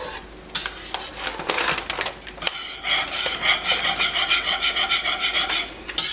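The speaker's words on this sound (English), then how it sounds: "And then we want to whisk this in until it's melted and smooth." Ingredients being whisked in a pot for a make-ahead Thanksgiving dish until melted and smooth, with scraping taps, then a fast rhythmic whisk scraping close and clear.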